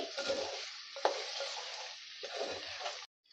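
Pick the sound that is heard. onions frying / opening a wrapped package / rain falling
onions frying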